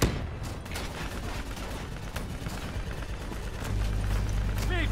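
Rapid video-game gunfire aimed at a VTOL aircraft and an armored APC rattles in a dense, continuous fusillade of crackling shots, with a deeper rumble swelling in the last second.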